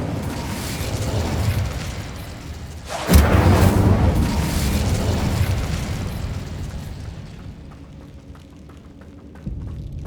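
Incendio fire spell cast in Hogwarts Legacy, a loud whooshing fiery burst that flares suddenly, roars for several seconds and trails off, with a second smaller burst near the end.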